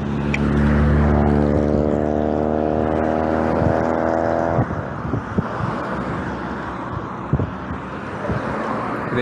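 Cars pass along a road with steady traffic roar, a loud engine hum that swells and fades, followed by gusty wind buffeting the microphone and scattered knocks.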